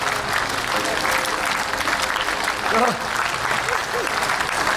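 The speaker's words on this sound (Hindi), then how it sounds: "ये तो वृक्षासन में ही ताली भी बजा रहे हैं और अपना आसन भी कर रहे हैं" Yoga students hold tree pose while clapping, a steady dense wash of applause from a large outdoor group throughout, with a voice speaking briefly over it.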